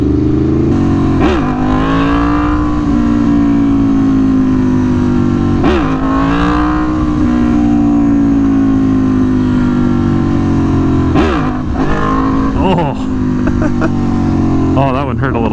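An Aprilia Tuono V4 1100 Factory motorcycle with wheelie control on its lowest setting revs hard several times, the engine note rising in repeated climbing sweeps under steady wind rush as it accelerates for wheelies.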